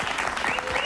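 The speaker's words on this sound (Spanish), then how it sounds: "un aplauso para ella" An audience breaks into sustained applause at a Spanish-language talk show interview, many hands clapping in a dense, steady wash that fills the whole moment without any voice on top.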